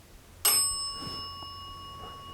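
A single bell strikes sharply inside an old haunted hotel, ringing on with a steady sustained tone that slowly fades, with faint knocks and creaks in the quiet room afterwards.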